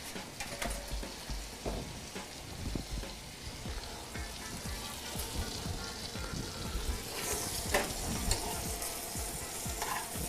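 Food sears in a hot pan with a continuous crackling sizzle, punctuated by scraping and stirring noises and brief pops, close up and fairly quiet, with no voices.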